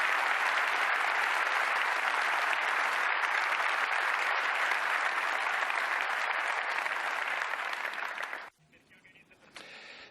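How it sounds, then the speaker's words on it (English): Loud, sustained applause from the crowd at the Ducati World Première 2020 bike unveiling, a dense steady wash of clapping for about eight seconds before it abruptly cuts away to quieter room sound. "A big, big round of applause for all of our technicians and engineers in Bologna"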